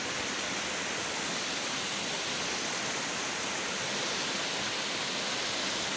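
Floodwater rushes steadily across a submerged field with tall grass, a loud continuous broadband roar like a torrent, close and unbroken throughout with no voices.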